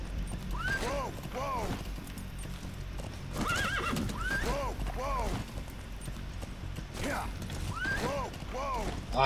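A horse neighs and whinnies repeatedly while its hooves clip-clop at a gallop in Metal Gear Solid V, with loud neighs recurring through steady hoofbeats and someone speaking intermittently.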